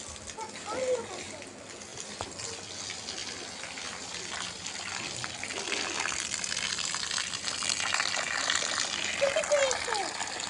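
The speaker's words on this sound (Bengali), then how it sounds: "অন্য গাছে জল খা, জল খা।" Water pours in a steady gush over garden plants, a continuous hiss running from start to finish, with a child's and an adult's voices talking over it.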